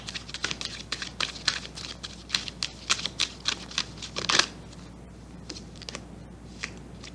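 A deck of tarot cards being shuffled by hand, a quick rhythmic run of papery riffles and snaps, close and clear, that stops partway through, leaving quiet room tone.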